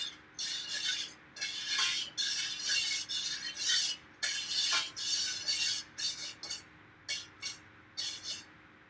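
A spoon stirs a cup of organic sugar in a pot for kombucha, giving repeated close scraping and clinking strokes in a steady, slightly irregular rhythm.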